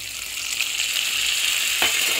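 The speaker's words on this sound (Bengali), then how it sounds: "সোয়াবিন আর আলুটা ভাজা ভাজা হয়ে গেছে। এবার এর মধ্যে মশলাটা দিয়ে দেবো।" Soybean chunks and potato fry in a pan as spice paste goes in, producing a continuous bright sizzle that holds steady, with a brief stirring scrape near the end.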